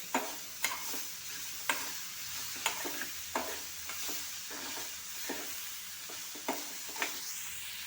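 Ingredients frying in oil, with a quiet continuous hiss of sizzling broken by a regular series of sharp ladle taps and scrapes against the pan.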